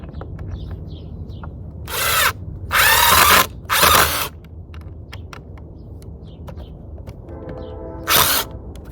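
A power drill drives 8x2 screws into a panel in a backyard garden build, four short whirring bursts of one to two seconds each, loud and close, with small clicks and handling noises between.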